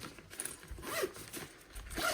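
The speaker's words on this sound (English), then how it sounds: "And then there's another zip-up pocket in here as well." A zipper being pulled along the pocket of a black Nike Brasilia XS duffel gym bag gives quiet, close rasping strokes with fabric rustling in between.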